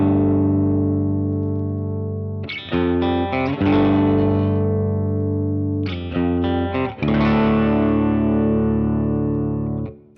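Electric guitar chords through a Greer Lightspeed boost into a Supro amp, modelled on a Fractal FM3, ring out loud and slightly driven, with three strummed chords sustaining and decaying over about ten seconds, no talking.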